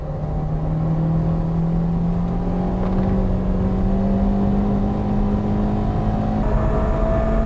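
Renault and Honda Integra race cars of over 220 horsepower, with Brembo brakes, run together on a circuit. Steady, loud engine drone rises slowly in pitch, with a gear change near the end and no talk.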